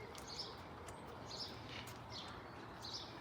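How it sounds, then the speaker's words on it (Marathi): Small birds chirp in a quiet park beside a cycling path and a small canal, with a short high call repeating roughly once a second over a steady, faint outdoor background. "तुम्हाला मागे पक्ष्यांचा किलबिलाट सुद्धा ऐकायला येत असेल."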